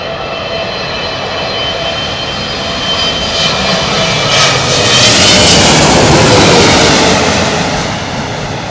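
A jet airliner touches down on a runway and its spoilers rise, giving a loud, steady roar of engines and rushing air that swells toward the middle and stays broad and sustained, with no voices.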